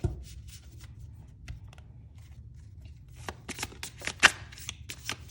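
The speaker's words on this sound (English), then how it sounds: "Now let's do a bit of shuffling." Tarot cards shuffle close by in quick papery bursts, sparse at first and then a busier run of riffling and tapping near the end.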